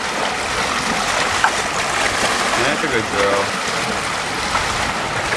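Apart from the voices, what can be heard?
salt water running out on a boat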